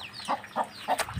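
A chicken clucks three or four times in short, close bursts, with no one talking.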